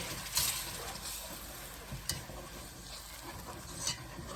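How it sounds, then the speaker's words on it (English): Plain flour being whisked into a pan for a cheese sauce, a steady soft scraping and stirring with a few sharper clicks of the whisk against the pan, close and alone with no talking. "Then we're going to get our whisk"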